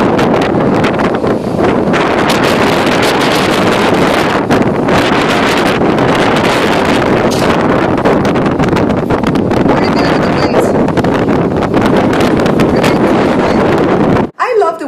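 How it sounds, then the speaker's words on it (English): Powerful gusting winds in Southern California roar steadily and loud, buffeting the microphone with heavy rumbling wind noise for nearly the whole stretch before cutting off abruptly at the end. "Take a look at this next clip to see how powerful those winds were."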